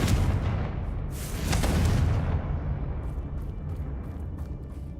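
The Confringo fire spell from the Hogwarts Legacy video game goes off as a loud, booming explosion with a rumbling burst that fades into crackling debris.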